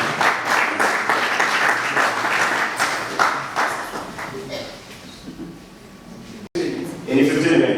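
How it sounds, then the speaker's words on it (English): Sustained audience clapping fills a DevFest Kigali 2024 tech conference hall, loud and dense at first, then thinning out, with voices talking over and after it. "let's put a round of applause"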